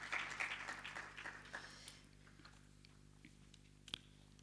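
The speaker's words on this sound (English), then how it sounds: "A round of applause for her." Applause from an audience at a health sciences research day, a burst of clapping that fades out within two seconds, leaving a quiet room with one faint knock.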